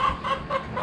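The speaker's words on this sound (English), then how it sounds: "Watch out, chickies." Chickens on a small hobby farm cluck in a quick, close burst of short repeated calls, a few birds overlapping.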